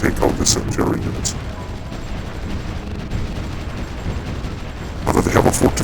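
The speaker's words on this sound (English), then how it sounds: "They're bombarding us from everywhere." Artillery bombardment in the strategy game Supreme Ruler, set in a World War era campaign: heavy booming impacts and a continuous rumbling barrage, loudest at the start and again near the end, with no voices.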